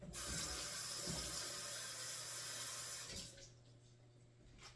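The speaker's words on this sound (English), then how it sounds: "Always rinse off your zucchinis." Zucchinis are rinsed under a running kitchen tap, a steady soft water rush that stops abruptly after about three seconds and leaves quiet room tone.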